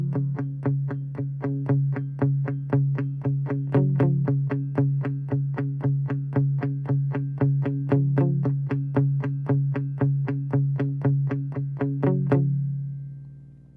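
Two electric guitar parts merged into one, played with effects and light overdrive, pick a fast, even stream of repeated notes at steady loudness with a slight echo shimmer, ending on a ringing sustained note.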